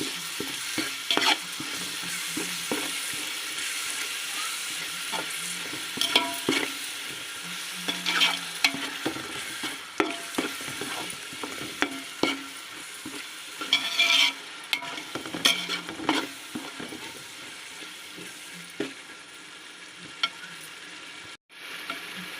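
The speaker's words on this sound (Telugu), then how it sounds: "పెరుగు వేసి ఇలా ఒక ఐదు నిమిషాలు అలా వేసేయాలి" Curd sizzles and fries in hot oil in a pan while making bagara rice, a steady crackling sizzle with frequent stirring scrapes and clinks throughout, close and fairly loud, no talking.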